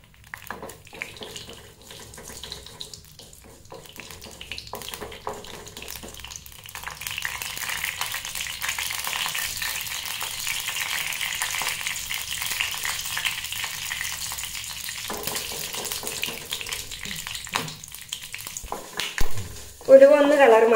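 Fenugreek seeds frying in coconut oil for a pumpkin, ash gourd and shallot sambar, a soft continuous sizzle that builds and holds steady, followed by a louder clatter at the very end.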